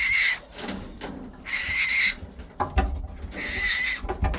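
A barn owl inside a dark barn gives repeated harsh, hissing screeches in three long bursts, loud and close, with faint rustling and knocks between the calls.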